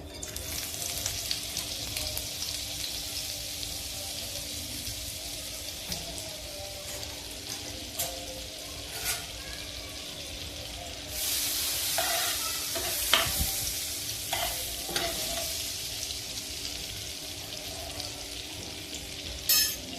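Oil and butter sizzle in a hot pan for dhaba-style paneer butter masala, a continuous close hiss with occasional stirring scrapes and a louder sizzling burst midway, no one talking.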